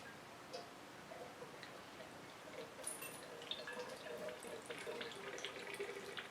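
Water pours from a watering can onto a potted plant indoors, a soft trickle and patter that grows busier and slightly louder toward the end, with a few small clicks and taps mixed in.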